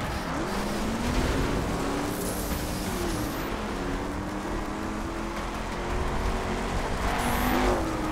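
Cars race in The Crew video game, a continuous engine drone with shifting revving tones running throughout, occasional tire squeal, steady and fairly loud with no talk.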